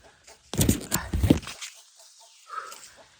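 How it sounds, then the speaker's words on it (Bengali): Village chickens cluck in a short burst close by on a rural homestead, and the noise fades into a faint, quieter call. "আর আমাদের মুরগিগুলো ডাকতেছে।"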